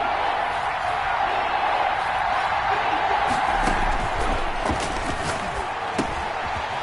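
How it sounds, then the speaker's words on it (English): Broad stadium crowd noise from the Madden 21 football video game rising ahead of a big third down, a sustained roar with scattered thumps and cheers underneath, loud and continuous. "the crowd getting into it as we come up on a big 3rd down"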